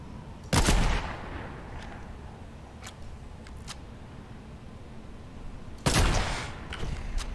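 Two loud Fortnite gunshot blasts a few seconds apart, each with a short ringing tail, with faint clicks and rustling in between.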